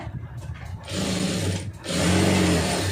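Sewing machine stitching the waist section of a lined blouse, a steady mechanical whir that starts, pauses briefly, then resumes louder and continuous.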